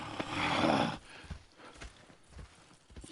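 Horse hooves clip-clop in the Red Dead Redemption 2 video game, a burst of rushing noise first, then scattered irregular hoof thuds, faint and close-ish, with no speech.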